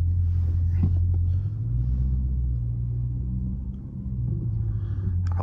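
A Dodge Charger Scat Pack with a 392 Hemi V8 and shaker hood idles and pulls away, giving a deep steady rumble heard from inside the car with no talking.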